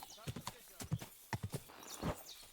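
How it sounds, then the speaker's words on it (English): Horse in the Kingdom Come Deliverance 2 video game, with a run of close, distinct hoof clip-clops followed by a short neigh, heard over faint game ambience. "stay off the road just in case somebody else spots us on this stolen horse"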